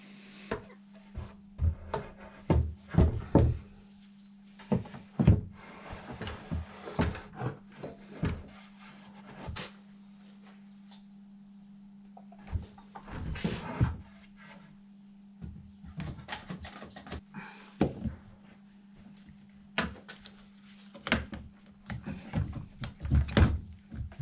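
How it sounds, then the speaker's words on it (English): A new wooden piece is set against an old floor beam and clamped in place during a joist repair, giving irregular knocks, thuds and scraping wood sounds over a steady low hum. "put our new piece next to the old beam, clamp it in position with a couple of clamps where we want it to be"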